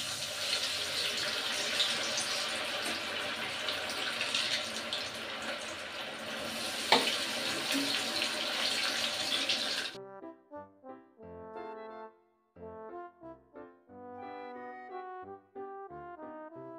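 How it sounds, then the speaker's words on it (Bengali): French fries dropped into hot oil hiss in a dense, even crackling sizzle, close and steady for several seconds before cutting off to music. "এখন আমি ফ্রেঞ্চ ফ্রাইগুলো জাস্ট ফ্রাই করে নেব"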